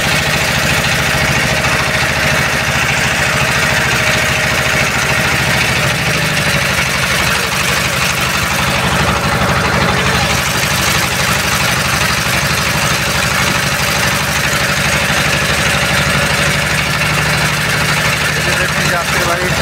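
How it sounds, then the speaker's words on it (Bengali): A passenger boat engine drones steadily while crossing the sea to Kutubdia on a foggy winter evening, a loud continuous rumble mixed with wind and water noise throughout. "যাত্রীবাহী বোট আর একটা চলে আসছে"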